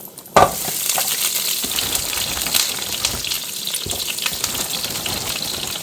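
A pot of water with broccoli florets boils at low heat, making a continuous loud bubbling and hissing roil, with a sharp splash or clank at the start.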